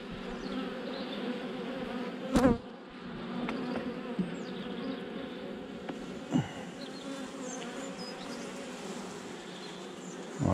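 Honeybees swarm around a hive of brood frames, their dense, steady buzzing filling the air continuously close by, with a few brief louder knocks.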